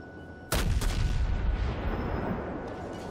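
Heavy naval guns on a warship in World of Warships boom in one loud, sudden salvo that rolls into a long, rumbling tail of echoing blasts and roaring noise, with no voices.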